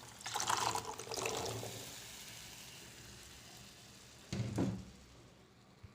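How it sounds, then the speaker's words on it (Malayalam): Boiled chickpeas tip into a pan of Punjabi chole masala gravy with two short wet pouring splashes and a soft simmering hiss between them, close and quiet. "ഇനി നമുക്ക് ആ വേവിച്ച് വെച്ചിരുന്ന കടല അതിലേക്ക് ഇട്ട് കൊടുക്കാം."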